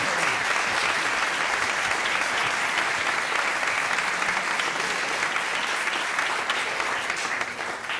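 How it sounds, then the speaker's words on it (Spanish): Sustained, dense applause from a concert audience for a cellist and a pianist, a steady wash of many hands clapping at close range, loud and even for the whole stretch with no voices on top. "Un aplauso para ellas, por favor."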